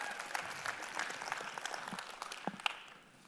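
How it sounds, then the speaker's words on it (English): An audience at EVE Fanfest applauds, a dense spread of clapping from a crowd that holds steady and then fades out near the end. "Give yourself a round of applause, guys."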